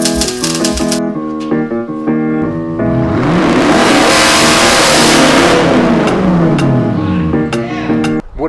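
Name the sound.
2015 Audi S7 4.0T engine revving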